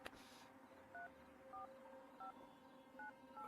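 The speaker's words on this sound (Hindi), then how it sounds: "यार तू फोन लगाएगा ठीक है प्लीज।" A telephone number is dialed on a movie phone, a series of about five paired-tone DTMF keypad beeps spaced roughly half a second apart, clear over a quiet room hum with no talking.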